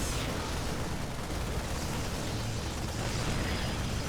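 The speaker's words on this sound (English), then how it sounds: "We do have another gateway explosion in the main base" A gateway building explodes in a StarCraft 2 match, a dense, continuous roar of blasts and rumbling debris that stays loud throughout without speech.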